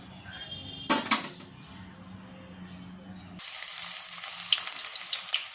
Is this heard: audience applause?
no